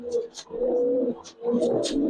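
Racer pigeons coo in a close, repeated series of soft throaty calls, with a pause between bursts and a few faint chirps above them.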